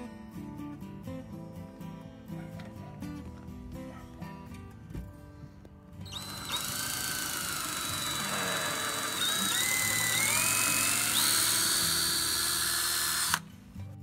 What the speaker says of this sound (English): Cutting was really slow going, especially when it was with the wood grain.